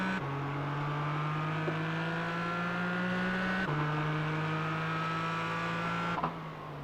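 A Daytona Camaro race car in a racing video game drones close up from the chase view, its engine holding a steady high whine with two sharp gear-shift breaks along the way, alone without talk.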